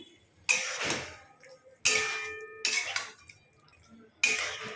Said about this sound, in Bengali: ভালো করে এগুলোকে একসাথে নেড়ে নেব।